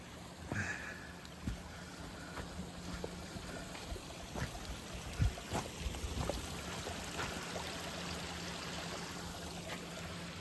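Soft, steady water flow murmurs quietly throughout, with scattered small knocks and clicks close by and no voices.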